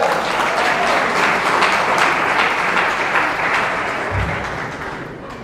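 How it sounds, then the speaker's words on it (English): An audience applauds at an academy's 21st anniversary celebration, a dense sustained clapping crowd that gradually fades toward the end. "Big round of applause for Mr."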